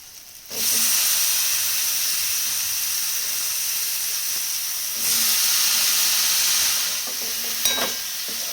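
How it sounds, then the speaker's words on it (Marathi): Eggplant tipped into a pan of roasted spices for Marathi dal vang, setting off a loud steady sizzle and hiss that swells again midway, with a faint clink of stirring near the end. "आता वांग टाकूया आपण त्यामध्ये."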